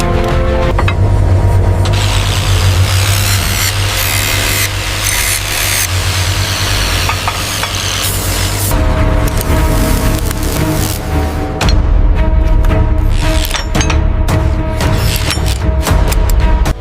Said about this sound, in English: The impact wrench provides the torque needed for extraction.